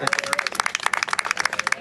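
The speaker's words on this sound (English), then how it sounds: "Let's give her a round of applause." Steady applause and clapping from a crowd greet Congresswoman Lucy McBath, dense and continuous for about two seconds, with voices faintly mixed in.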